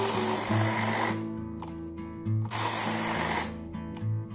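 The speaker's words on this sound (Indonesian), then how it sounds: "Untuk menghaluskannya, saya akan menggunakan hand blender" A hand blender purées chilies for squid sambal in two loud whirring bursts of about a second each, the motor pitch wavering as it churns, with short pauses between.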